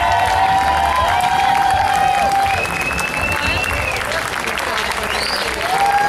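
An outdoor crowd at a community music celebration in a central park applauds and cheers for instructors, continuous clapping and whoops with sustained whistles, loud and steady, while a voice over a PA talks through it.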